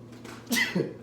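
A single short, sharp sneeze bursts out nearby after a quiet moment, followed by a brief breathy catch.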